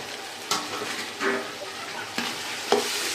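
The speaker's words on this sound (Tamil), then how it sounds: "நல்லா வெங்காயம் நல்லா வதங்கிடணும்." Onions and masala sautéing in hot oil for soya dum biryani, a steady close sizzle broken by several scraping stirs of a spoon in the pan, with no voices.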